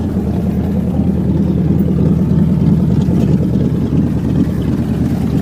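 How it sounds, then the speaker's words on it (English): A 1988 Chevy Silverado engine runs with an exhaust leak, giving a loud, steady low rumble and throb that stays close and constant throughout with no voices. "I think there's a hole in the exhaust."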